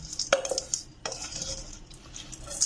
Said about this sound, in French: je mélange tout